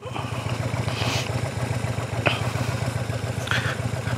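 A motorcycle engine thrums steadily at low revs, close and even-paced, as the bike rolls along slowly, with a few faint clicks over the engine.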